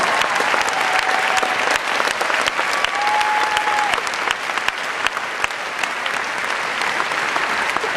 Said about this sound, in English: Give them all a huge round of applause.